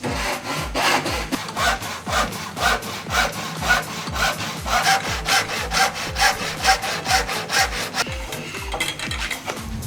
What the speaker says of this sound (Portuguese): Vamos serrar a outra parte.